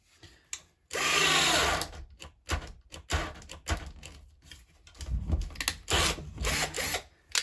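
A cheap Cjrelectrical cordless drill bores into timber in loud bursts, a first long whirring run followed by a series of short, choppy spurts with gaps between.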